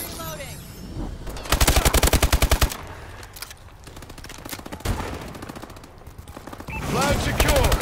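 Covering fire in a Battlefield-style shooter: rapid bursts of machine-gun fire come in clusters, with one loud sustained burst near the start and scattered shots after it, while faint voices are heard in the background.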